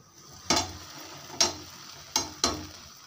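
Bobbatlu, sweet flatbreads filled with toor dal, frying in a pan, four sharp clatters of the flip spaced about a second apart over a faint low sizzle, close and quiet.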